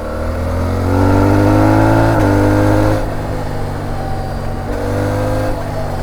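A Suzuki V-Strom 800DE adventure motorcycle accelerating hard on the throttle after a downshift, with a loud, close engine rising in pitch, briefly dropping at a gear change, then droning on steadily.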